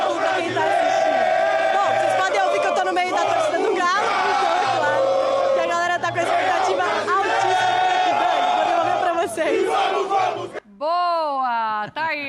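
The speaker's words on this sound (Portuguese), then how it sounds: "vocês podem ouvir que eu tô no meio da torcida do Galo" Atlético Mineiro supporters roar and chant together in a packed stadium, a loud, dense crowd noise running continuously before giving way to a brief rising whistle-like vocal sweep near the end.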